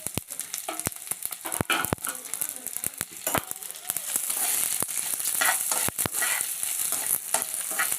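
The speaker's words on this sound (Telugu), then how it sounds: "అదే ప్యాన్లో కొంచెం ఆయిల్ పోసి మనం ఎండుమిరపకాయలు ఇవన్నీ వేసి వేపేసుకోవాలి" Dried red chillies fry in a little oil in a pan for a mint and peanut chutney, giving a steady, close sizzle that swells in the second half, broken by sharp clicks and scrapes of stirring.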